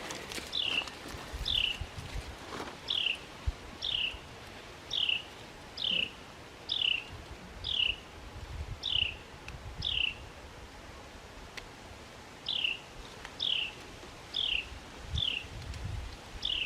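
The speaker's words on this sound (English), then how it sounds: "I don't know what kind of little bird that is." A small bird in a garden repeats a short, high chirping call about once a second, in two runs with a brief pause between, against quiet outdoor background.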